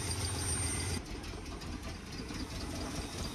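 An old Chevy Blazer pulled from a scrap yard idles roughly on half choke, a low uneven engine rumble with faint knocking that continues steadily, heard close with no talk.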